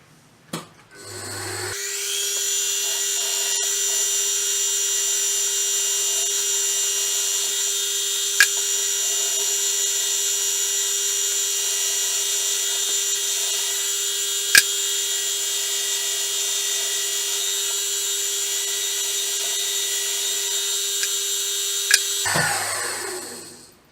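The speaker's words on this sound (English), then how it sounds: "This hole is going to be drilled plenty deep, such that there is no chance of the screw or the bolt hitting the bottom of the hole." A drill boring a deep hole in a wooden turntable part for a screw, a steady high-pitched whine held for about twenty seconds with a few sharp clicks, spinning up at the start and winding down at the end.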